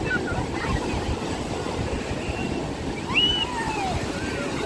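Sea waves break and wash up a sloping beach near Gokarna, Karnataka, a steady broadband surf roar with gusts of wind across the microphone and no pause throughout.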